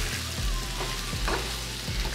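Udon noodles and crispy tofu in a thickened stir fry sauce fry with a loud, constant sizzle, broken by a few soft thumps and scrapes as the pan is tossed.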